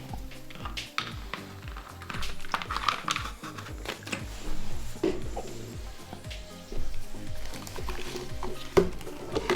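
Acid fizzing and bubbling on a corroded, dead Nokia 1020 Pureview phone, a faint crackling sizzle with small irregular pops, close and quiet.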